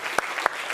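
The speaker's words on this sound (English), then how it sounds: "Round of applause for Team Flux." Applause at a startup demo day for a presenting team, scattered crisp claps standing out from a soft crowd clatter, short and moderately faint.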